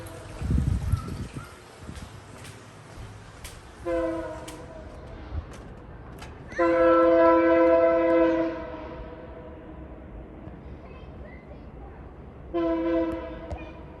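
A train rumbles past with a steady rolling noise, sounding its horn in short blasts and then one long blast, fairly distant.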